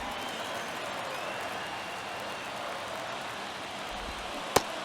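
A simulated ballpark crowd murmurs and cheers steadily in MLB The Show 23 during a tight ninth inning of Padres at Reds, a continuous wash of stadium noise with one sharp knock near the end.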